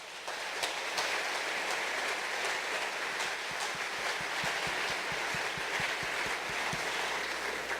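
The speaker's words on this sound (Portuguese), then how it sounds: "Aplauda o Senhor por Jesus por isso." A church congregation applauding, a dense, continuous patter of clapping that fills the whole stretch at an even level, with no voices standing out.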